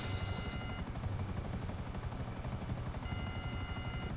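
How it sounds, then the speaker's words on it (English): A Buzzard helicopter flying in GTA 5: a steady, dense rotor chop and engine drone at moderate level, continuous throughout with a faint high whine on top. "Purchase a buzzard and then shoot down Enzo's helicopter"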